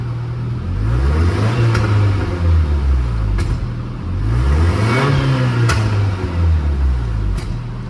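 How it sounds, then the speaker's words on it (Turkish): Opel Tigra engine revving up and down in repeated swells, with a leaking exhaust and a broken catalytic converter adding occasional sharp rattling clicks over the rough, close engine drone. "Egzozda aşağıda hem o gösterdiğim kaçaklar var hem katalizörün içi dağılmış."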